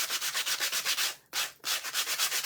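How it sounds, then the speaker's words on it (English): A handheld sanding tool rubs along the edges of boots in quick, rhythmic strokes, a close, loud scratchy rasp pulsing about five times per second with a short pause midway. "now I'm going to use my sanding tool"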